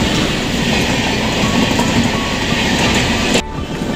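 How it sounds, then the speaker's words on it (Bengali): An express train bound from NJP to Delhi rushes past close by with a loud, continuous rumble and rhythmic wheel clatter, cutting off abruptly near the end. "এখন পাশ দিয়ে চলে যাচ্ছে এনজেপি থেকে দিল্লি যাওয়ার কোনো এক্সপ্রেস ট্রেন।"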